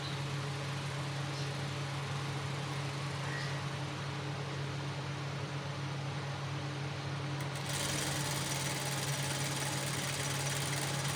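Sewing machine stitching the side pocket of a gents kurta, a steady mechanical hum with a fast running rhythm throughout, rising slightly in level near the end, with no talking.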